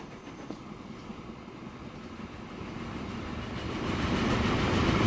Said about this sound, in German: Da kommt unser Baumaterialzug.